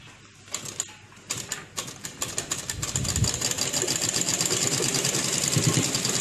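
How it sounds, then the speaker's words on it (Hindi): A small half-size sewing machine stitching white thread through black cloth starts with a few separate clicks, then settles into a rapid, steady, close-up whirring rattle. "देखिए इस तरह हमारी सिलाई शुरू हो चुकी है।"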